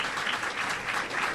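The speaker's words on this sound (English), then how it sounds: "How about a big round of applause for Admiral Harry Harris, everybody?" Dense applause from a crowd of troops in Hawaii for Admiral Harry Harris, steady and fairly loud, filling the space with continuous clapping and no voices.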